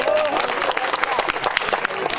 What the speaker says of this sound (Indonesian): Tepuk tangan untuk Udin.